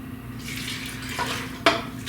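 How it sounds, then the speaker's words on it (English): Cold whole milk poured into a bowl with two boxes of pistachio pudding mix, giving a soft, close liquid rush with a sharp clink near the end and no talking. "I have nice cold whole milk in here. I'm going to pour that in with the 2 boxes of pudding."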